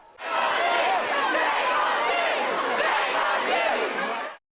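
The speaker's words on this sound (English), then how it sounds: "The police trying to move the crowd on were met with resistance, chants that told them they were unwelcome." A protest crowd at Clapham chants and shouts at police, a dense, loud roar of many voices sustained for about four seconds before stopping abruptly.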